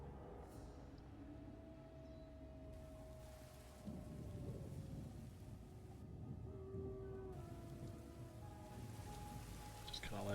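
Steady, heavy rain in the video game Empire: Total War hisses throughout with low rumbling underneath, a constant dense wash of sound with no clear breaks.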